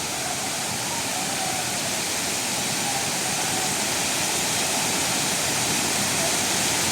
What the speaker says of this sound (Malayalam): നല്ല ഭംഗിയുണ്ട് കേട്ടോ വാട്ടർഫാൾസ് കാണാൻ